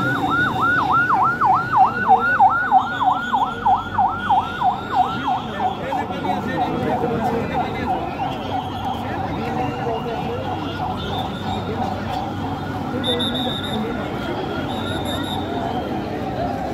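Wailing fire service siren on a jammed city road near a burning airport cargo warehouse, loud and rising-falling in quick cycles for several seconds before fading into heavy crowd and traffic noise.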